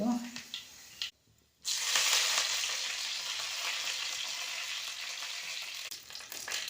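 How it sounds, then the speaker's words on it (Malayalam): Mustard seeds and dried red chillies fry in coconut oil in an uruli on the stove, giving a loud, steady sizzle that cuts out briefly near the start and then carries on, with faint voices underneath. "ഉരുളി അടുപ്പത്ത് വെച്ച് വെളിച്ചെണ്ണ ഒഴിച്ചേ കടുക് ചേർത്തു വറ്റൽമുളക് ചേർത്തു"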